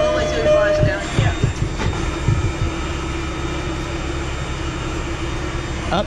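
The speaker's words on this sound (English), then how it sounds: "Up there goes. There goes the other train line, and that's ours too." A Boston MBTA Red Line subway train rumbles past nearby, a steady loud roar of wheels and motors with a few clanks early on, and a voice talks over it.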